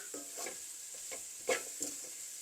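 Onions frying in a pan for a dried baby prawn sambol, a steady soft sizzle with a few stirring scrapes of the spoon, heard close and alone.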